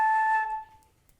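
Flute sounding a single sustained A, clear and steady before quickly fading away, with no talk.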